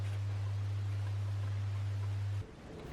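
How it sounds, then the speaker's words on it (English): A can of matte black spray paint hisses steadily as it coats a wooden box, a continuous close spray with a low hum underneath that stops abruptly near the end, with no talk. "Then using this matte black spray paint, I did give it 2 coats of paint"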